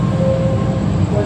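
A train rolls into Semarang station at night with a loud, close, continuous low rumble and a sustained squealing tone from the wheels. No one speaks over it.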